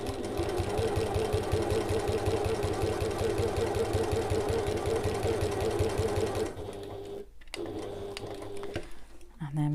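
A sewing machine stitches an evening bag, its rapid, even mechanical whirring running steadily and close, then stopping abruptly near the end before a few brief short bursts of stitching.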